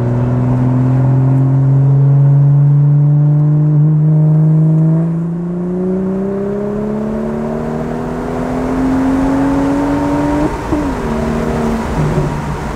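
BMW 435i Stage 2 with MHD anti-lag accelerating hard in third gear, loud steady engine drone rising in pitch as it pulls, a brief stutter near the end before climbing again.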